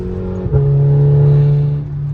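A Peugeot 206 GTI with a full straight-through exhaust revs loudly and close by, its deep engine note holding steady and briefly rising in one short burst.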